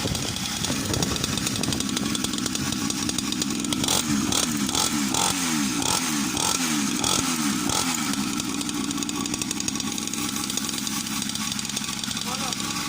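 KXD pocket bike's small two-stroke engine running loud and rough close up, revving in a series of rapid throttle blips before settling back to a steady buzzing idle; people talk over it.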